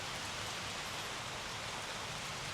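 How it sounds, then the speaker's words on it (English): Steady rain falling and pattering on surfaces outdoors at a temple site in Thailand, a dense, continuous hiss without pauses or voices. "It started to rain, but I found an umbrella."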